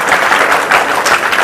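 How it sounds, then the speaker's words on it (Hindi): An audience claps together at a Raksha Bandhan gathering held outdoors in the sun at the Mathura district jail: steady, dense applause from many hands, close and fairly loud, with no talk over it. "नहीं है दिक्कत तो अपने लिए ताली बजाओ"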